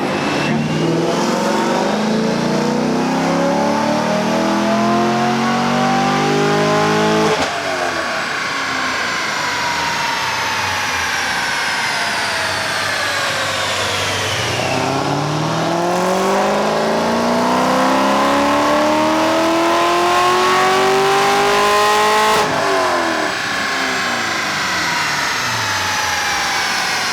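A race car engine on a dyno wails through repeated full-throttle pulls, its pitch climbing in long sweeps, dropping back and climbing again, loud and close throughout with no break in the roar.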